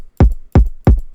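Three hard kick drum hits from a sampled R&B beat, each a loud punchy thump with a pitch-dropping low boom, evenly spaced about a third of a second apart.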